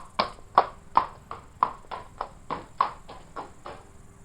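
Ten crisp clip-clop hoofbeat sounds in a steady, evenly spaced rhythm, close and clear with nothing else around them, like a horse walking on a hard surface.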